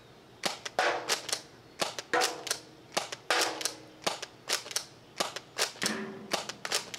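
Toy dart blaster firing chili darts in a rapid run of about a dozen sharp, close, snappy shots, each a crisp crack with short mechanical clatter, spaced unevenly with no talk.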